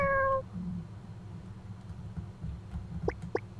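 A cat meows from a cat power in the video game Asleep, giving a few short, clear, fairly close meows over a low background hum.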